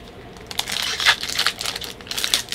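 Foil wrapper of a Yu-Gi-Oh booster pack from a Number 10 Illumiknight tin crinkling and tearing open up close, a steady run of sharp rustling bursts with no talk over it.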